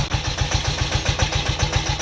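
A Sanedo mini agriculture tractor engine runs steadily while reversing, with a loud, close, rapid chugging pulse of even beats and a diesel-like rattle throughout.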